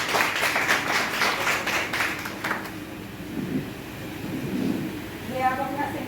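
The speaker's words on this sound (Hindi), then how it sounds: "तो एक बार जोरदार तालियां" A seminar audience at a skin treatment and makeup event breaks into applause, a loud burst of clapping that fades out after a couple of seconds, followed by someone speaking.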